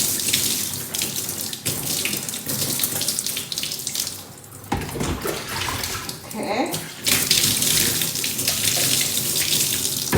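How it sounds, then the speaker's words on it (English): Tap water runs steadily into a sink while natural hair is rinsed, a continuous close splashing and gurgling stream that dips briefly midway; a voice speaks a single word over it. "The water is running a bit clearer now."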